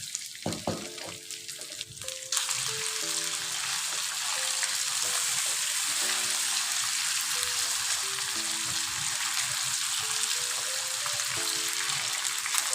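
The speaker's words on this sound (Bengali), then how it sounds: "আমি একটা বড় সাইজের প্যান নিয়ে নিয়েছি, যাতে একসাথে আমার কই মাছগুলো ফ্রাই করা হয়ে যায়।" Koi fish dropped into hot mustard oil with nigella seeds in a large pan burst into a loud, steady sizzle that keeps up without a break over soft background music.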